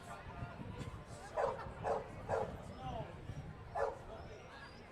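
A dog barks at a dog race at Canterbury Park, a string of four or five sharp barks in uneven bursts, moderately near over a commentator's steady talk and crowd noise.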